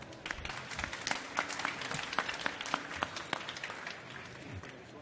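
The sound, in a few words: audience applause for a jury member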